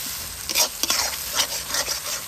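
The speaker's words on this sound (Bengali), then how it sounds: "পেস্ট করা নারকেল বাটাটা দিয়ে দিচ্ছি।" Coconut paste stirred into a well-fried spice masala in hot oil gives a loud, close sizzle, broken by repeated scraping stirs at an uneven rhythm.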